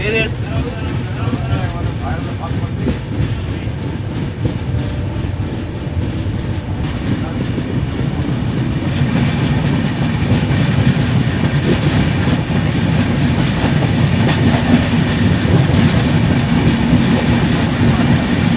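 The 22612 New Jalpaiguri–MGR Chennai Central SF Express runs on rails with a loud, steady rumble and rhythmic clatter of wheels that swells louder in the second half, while voices talk over it.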